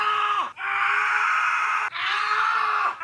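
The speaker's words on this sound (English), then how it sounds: "This man screams." A man screams in long, loud, sustained cries, three drawn-out bursts with brief breaks between them, in a scene of people struggling against a gorilla.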